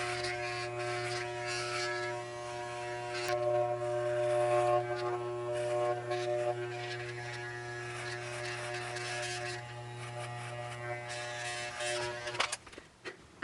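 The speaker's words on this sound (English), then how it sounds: "I'm essentially using my head to shave my head, and it works really well" Electric hair clippers buzz steadily and close while shaving a head, a constant drone that shifts slightly as the blade moves, ending with a brief rustle and no speech.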